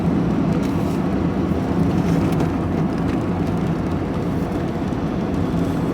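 A warmed-up car engine idles with a steady low rumble and hum, constant and close, with no voices.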